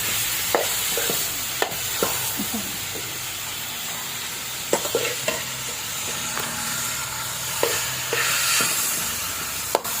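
Ground beef with salt and seasoning sautéing in a pan, a steady close sizzle and hiss broken by scattered sharp clicks and scrapes of a utensil stirring.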